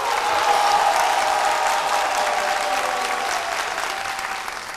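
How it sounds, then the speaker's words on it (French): Sustained applause from a studio audience on a French-language TV programme, steady and full, with a faint whistle-like tone running through it before it eases slightly toward the end. "applaudissements renouvelés"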